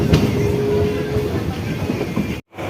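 A train departs a station, its loud, close rumble and wheel clatter running steadily before a brief cut near the end, with faint voices in the background.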